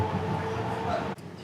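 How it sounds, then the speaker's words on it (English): Houston Red Line light rail train in motion, a steady rumbling ride noise from inside the car with a voice talking over it, ending in a short abrupt drop. "We have a long enough train ride."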